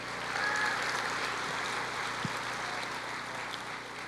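Church congregation applauding during a sermon, a broad, blended wash of clapping from a large crowd in a reverberant hall, moderately loud and steady, with faint background tones beneath.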